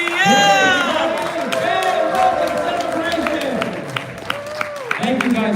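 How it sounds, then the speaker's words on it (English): Steady audience applause and cheering fills the room at a live variety show, with an excited voice calling out over the crowd noise throughout. "keep your applause going"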